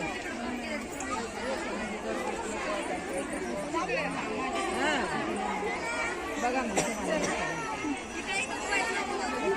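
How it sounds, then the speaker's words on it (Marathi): Dense crowd chatter fills a packed Hindu temple during Makar Sankranti, with many overlapping voices close by and continuing throughout. "मंदिर आहे तर गर्दी तर एकदम फुल आहे"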